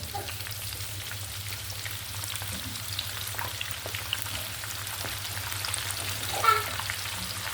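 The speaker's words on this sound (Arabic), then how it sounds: "انا رح اقلي البصل بس لبين ما يدبل" Onions frying in an unoiled pan for a baked potato and minced meat tray, a steady soft sizzle with faint crackles throughout and one brief louder pop near the end, no talking.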